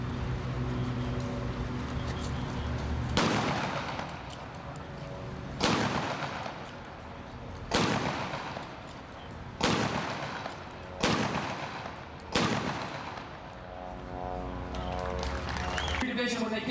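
A bolt-action rifle of the type American infantry carried on D-Day, fired outdoors in six loud, sharp shots spaced a couple of seconds apart, with voices and background noise between them.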